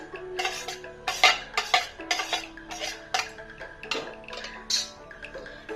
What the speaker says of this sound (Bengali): ডিমটা ফেটিয়ে নিচ্ছি